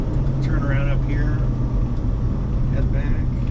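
A 1976 Ford F250 Highboy pickup on new tires drives along with a steady, low engine rumble and road noise from inside the cab. Someone talks over the constant drone.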